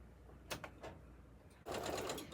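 A sewing machine stitches a small piece onto the edge of a quilt, with a few quick needle clicks followed by a brief close, steady whirring run.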